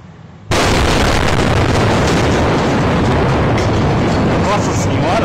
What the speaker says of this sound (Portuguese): Olha, explodiu o posto aquilo.